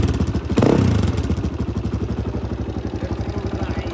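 A motorbike engine idles with a steady, loud, chugging pulse throughout, rising briefly in a burst of revving early on, with faint voices underneath.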